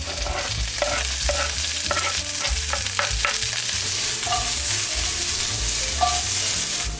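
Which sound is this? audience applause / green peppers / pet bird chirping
green peppers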